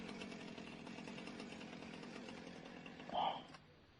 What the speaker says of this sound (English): I love that idling sound of a chainsaw.